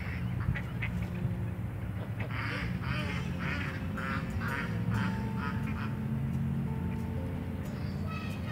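Ducks in Tijuana's Parque de la Amistad quack repeatedly in overlapping bursts, a busy, near flock calling over a steady outdoor background with no talking.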